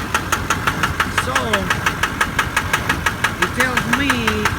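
A 2002 Duramax diesel engine, suspected of bad injectors, idles with a steady, loud, rhythmic knock, while someone speaks over it now and then.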